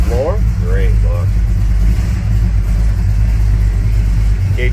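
A 1964 Chevrolet C10 shortbox street rod idles loud and close just after a cold start, a steady deep rumble running throughout while someone talks over it.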